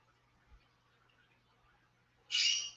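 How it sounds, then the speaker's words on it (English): A pet bird gives a single brief, shrill squawk near the end, sharp and fairly loud against a quiet room with faint low hum. "Go check on the bird. She's fine. She's over there complaining."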